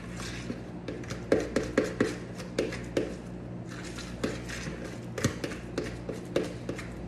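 Keto roll dough being mixed in a bowl, with irregular clinks and taps of a utensil against the bowl, fairly quiet and close, with no talking.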